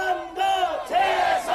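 Crowd at a political rally in Olympic Park shouting and cheering in sustained bursts, a loud collective roar that surges twice in quick succession.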